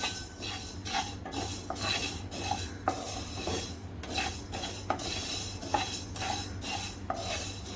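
Dry-roasting spices for mango pickle in a pan, a steady scraping and stirring with a spoon, metallic clinks at regular intervals over a soft constant hiss, close and alone with no voices.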